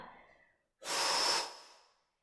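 One sharp, breathy inhale or exhale during a floor exercise session, a single hissing breath lasting about a second after a faint earlier breath, close to the ear with no speech.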